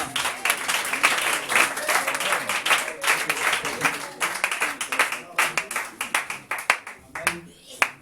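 A congregation at a Sunday church service applauds with lively rhythmic clapping that fades into scattered claps near the end, with voices speaking over it.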